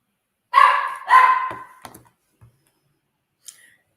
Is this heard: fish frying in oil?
no